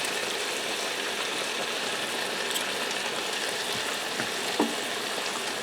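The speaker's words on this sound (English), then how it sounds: "now that my beef is about halfway fried" Beef and minced garlic fry in a pan with a continuous, dense sizzle and crackle, broken by a few scraping stirs, with no talking.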